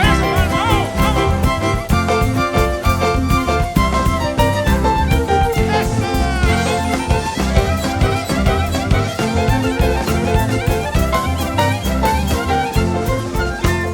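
Dense live performance of the Paraguayan-style song Cuñá Lleró, full band with steady rhythm and sustained melody, loud and continuous throughout.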